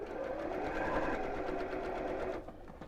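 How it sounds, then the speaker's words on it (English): Sewing machine stitching around a scalloped edge, a steady close whir of rapid needle strokes that runs continuously and slows to a stop near the end. "let me just finish sewing around this"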